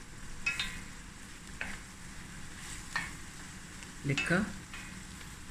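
Mussels stir-fried in a pan over high heat give a faint steady sizzle with a few scraping stirs, and a brief louder clatter near the end; a voice speaks one short word.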